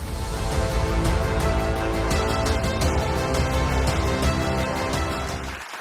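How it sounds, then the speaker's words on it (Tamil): Sustained applause from a crowd, dense and steady for several seconds before cutting off abruptly. "பரந்தாமனுடைய அத்தையும் அவங்க அப்பாவையும் ஒரு கைத்தட்டலோடு இந்த மன்றத்திற்கு அழைக்கிறோம்."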